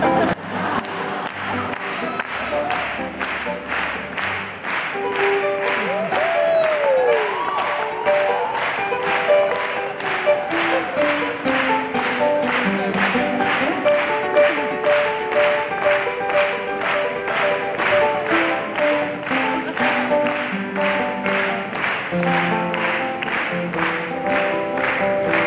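A concert audience at a show in Santiago, Chile, claps in steady rhythm along to a song. The loud, even claps run through the whole stretch over the live music and singing.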